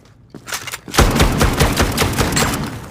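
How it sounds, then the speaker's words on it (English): AA-12 automatic shotgun firing in the video game Zero Caliber: a rapid burst of heavy booming shots running together into a continuous roar, close and loud. "Okay, I know what this one is. It's an AA-12."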